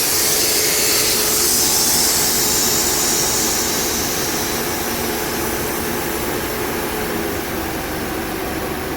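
Pressurised air is released from a Nissan Altima air-conditioning system reading about 130 psi, making a loud, steady rushing hiss that is strongest at the start and eases slightly over nine seconds.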